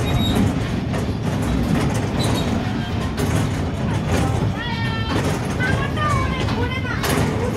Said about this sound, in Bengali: এটা হচ্ছে শায়ানের ট্রেনে রাইড করার মুহূর্ত।